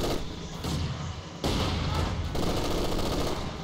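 Mortar and small-arms fire in a Company of Heroes 2 multiplayer battle: loud, dense, continuous barrage of booming shots and bursts, with heavy thumps stepping up around the middle, no clear gaps between impacts.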